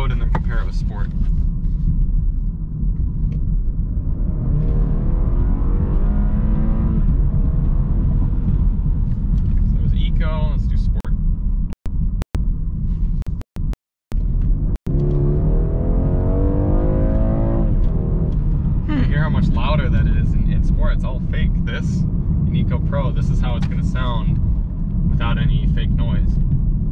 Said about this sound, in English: I'll do kind of a 30 mile per hour pull in eco mode, and then compare it with sport